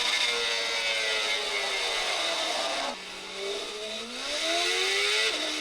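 Honda CBR 600 motorcycle engine in a racing video game at Laguna Seca, a continuous high whine that rises through the gears, dips briefly near the middle, then climbs again, loud and steady with no talking.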